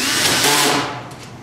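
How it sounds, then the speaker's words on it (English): A power drill driving a screw into a deck during a SmartBoxx install, a loud close whirring burst that winds down after about a second into a fading buzz. "and drive the screw home"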